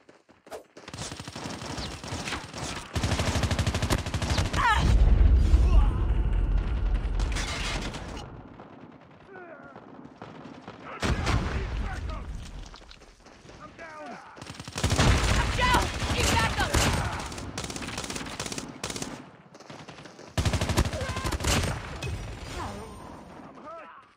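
Bursts of automatic gunfire in Call of Duty Mobile, several long rattling volleys separated by short pauses, loud and close, with game voice callouts mixed in.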